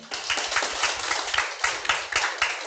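A roomful of attendees at a business group meeting claps in a brisk, dense round of applause, close and fairly loud, with the individual hand claps blending into a continuous patter.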